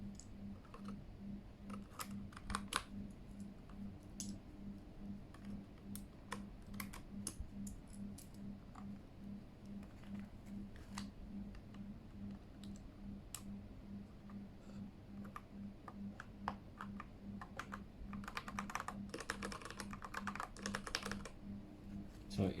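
Typing on a Keychron K8 keyboard fitted with new keycaps, quiet rapid clicking keystrokes in irregular bursts under a steady low hum, close up and soft, with no speech.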